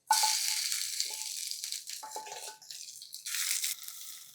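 Mashed roselle (ambadi) leaves hitting a hot pan for a garlicky chutney give a sharp, close sizzle with crackling bursts that tail off and then swell again. No one speaks.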